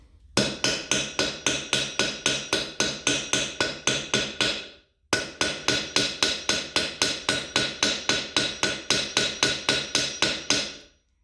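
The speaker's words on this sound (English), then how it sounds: "And I try to hammer across both sides so that it's kind of even." Rapid, steady hammer blows on a metal cuff bracelet, ringing bright and close in two long runs of about fifteen strikes each with a brief gap between them, nothing else heard.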